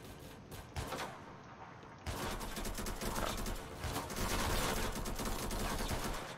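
Automatic sniper rifle firing in the game Fray, a fast run of sharp shots from about two seconds on, fairly loud and steady, with scattered single reports before.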